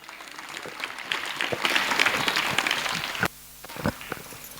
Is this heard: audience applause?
yes